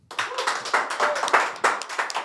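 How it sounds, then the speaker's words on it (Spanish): A small studio audience of a Spanish-language history show claps briefly, the separate hand claps close and uneven in rhythm. "fuerte el aplauso"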